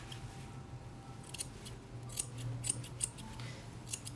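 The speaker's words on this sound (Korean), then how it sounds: "저는 그래서 일자 요술가위는 주로 다리 할 때 많이 쓰고 있어요." Straight grooming scissors trim the fur on a dog's leg, giving a rapid series of light, crisp snips close by over a low steady hum, with no talk.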